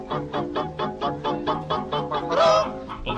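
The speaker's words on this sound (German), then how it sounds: "Thema dieses Filmes ist das Huhn, eines unserer häufigsten Nutztiere." Domestic chickens cluck in a steady series of close, rhythmic calls, and a louder squawk rises near the end.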